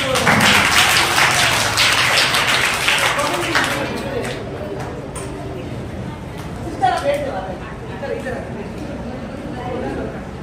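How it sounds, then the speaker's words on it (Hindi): Audience applause at a children's day celebration, a loud burst of clapping that fades after a few seconds into scattered claps, chatter and movement. "तालियां बजा लेना"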